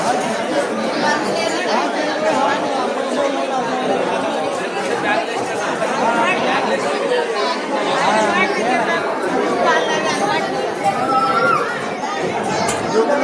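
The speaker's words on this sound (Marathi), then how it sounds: "अजून लई मोठी गर्दी आहे" Dense, continuous chatter of a large crowd of pilgrims at the Trimbakeshwar Jyotirlinga temple, many overlapping voices forming a steady murmur throughout.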